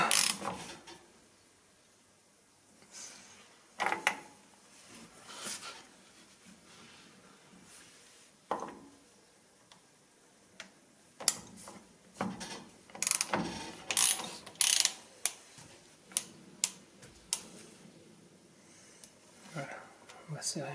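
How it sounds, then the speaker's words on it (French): A socket wrench ratchet tightens a 24 mm nut, giving bursts of quick, close clicking that become denser and louder toward the end, heard under occasional speech. "On va serrer ça. Donc on resserre avec du 24."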